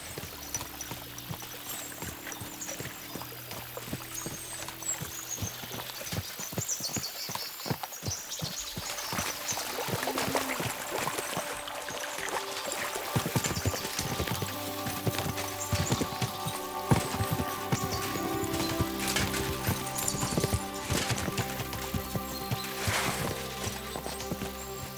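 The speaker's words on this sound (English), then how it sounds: "we'll give the horses a gallop again." Horses gallop in the video game Kingdom Come: Deliverance II, with a steady rapid clip-clop of hooves, near and continuous, alongside some splashing water as they move near a stream.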